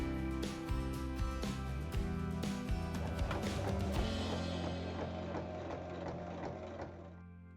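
A sewing machine stitches the full length of a bag's fabric lining, steady mechanical whirring with rapid stitch ticks throughout, fairly close, fading slightly toward the end.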